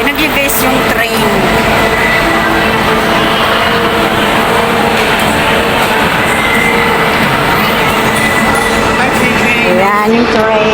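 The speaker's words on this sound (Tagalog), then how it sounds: "Ayan yung train." The Ocean Express train at Ocean Park rumbles steadily past a busy station, its rolling noise continuous and loud beneath crowd chatter and a nearby voice talking.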